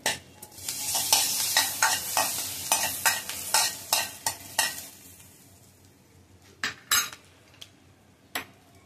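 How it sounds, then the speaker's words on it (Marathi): Crushed garlic hits a hot pan for palak soup and sizzles loudly while a spoon stirs and scrapes, the frying fading after a few seconds into sparse, sharp clinks and taps. "लसूण ठेचून टाकले"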